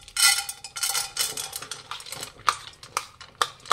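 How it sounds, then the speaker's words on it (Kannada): Washed toor dal is tipped into a metal vessel, giving a quick series of bright rattling and clinking impacts that come in short bursts, close and fairly loud, with no talking. "ಈಗ ತೊಗರಿಬೇಳೆ ಹಾಕ್ತಾ ಇದ್ದೀನಿ."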